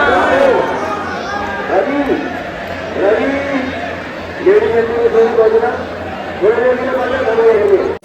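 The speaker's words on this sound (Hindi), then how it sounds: "ओए ओए ये भीड़ भाई, थोड़ा बाहर जाके मिलते हैं भाई, बहुत भीड़ है यहाँ तो" Dense crowd chattering at a temple in Vrindavan during Holi, a steady wash of many voices close around with louder individual calls rising over the din throughout.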